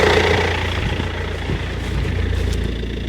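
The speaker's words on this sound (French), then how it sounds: "Ça vibre pas tant que ça pour un diesel là, il claque pas." A Land Rover Freelander diesel idles steadily with a low, even rumble, close and continuous without knocking or revving, no voices.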